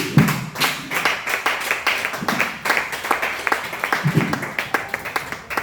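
A church congregation claps in praise at a Pentecost service, a steady run of sharp, fairly close handclaps with faint voices underneath.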